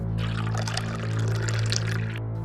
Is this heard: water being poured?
yes